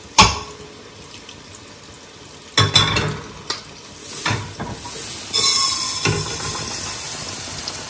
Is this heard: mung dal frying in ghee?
yes